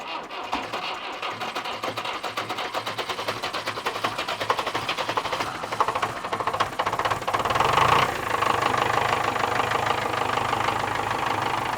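An old McCormick F240 tractor engine running with a steady, rapid knocking rhythm and rattle, close and continuous, growing slightly louder near the end.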